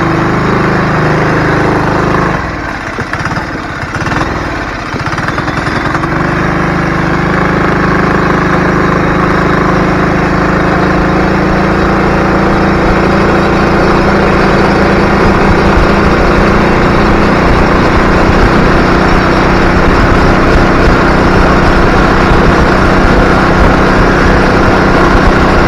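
Small motorized bicycle engine idling just after the ignition is switched on, a steady close chugging drone that stutters briefly early on, then runs evenly and continuously with no talking.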